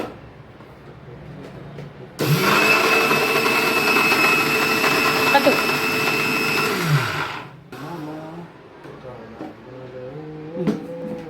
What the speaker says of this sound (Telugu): ఇప్పుడు ఆ వేయించుకున్న నువ్వులను పల్లీలను పొడిలా పల్సిస్తూ మిక్సీ పట్టుకోవాలి